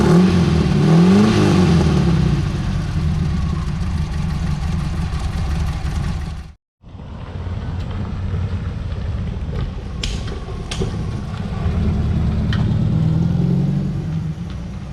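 Adamo GTL car engine running steadily while driving, a loud continuous drone that swells and eases with throttle, broken by one brief dropout midway, then carrying on with the engine note and road noise, no voices.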